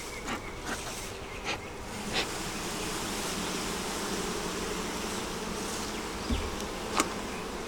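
Honeybees at an open double-deep hive with a honey super, a steady close buzzing swarm hum with individual bees zipping past the microphone.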